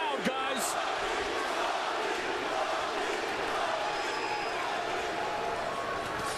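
A large arena crowd at a mixed martial arts fight roars in a steady, distant wash of cheering and shouting, with a commentator's voice briefly audible over it.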